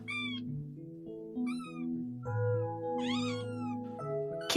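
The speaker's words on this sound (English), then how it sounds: "Kittens meow to say hello or to ask for something." A kitten meows four times in short, high, clear calls spaced about a second apart, close and alone with no talk.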